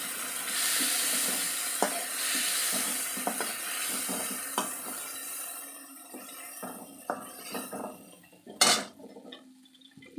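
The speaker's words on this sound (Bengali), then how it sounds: "পিট ও পিট করে মাছগুলো একটু ভাজা করে নিচ্ছি" Prawns frying in a pan, heard as a soft, fairly close sizzle broken by scattered clinks and scrapes of a utensil, with one sharper clatter near the end.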